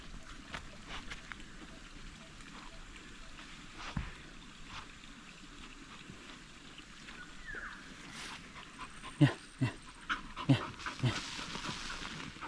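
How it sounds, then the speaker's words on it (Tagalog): A dog pants in quick, steady breaths close by, over faint wind and rustling, with a few louder sharp knocks and thumps near the end. "nakagalit po ang aso pag hinawakan"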